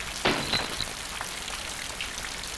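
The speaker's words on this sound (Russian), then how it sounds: "Я должен остановить дождь." Steady rain falls in the Pink Panther video game, a soft even hiss throughout with one brighter splash near the start.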